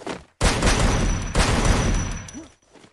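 Sustained automatic gunfire from a video game weapon rips out close and loud for about two seconds, briefly re-triggering midway, with no talk over it.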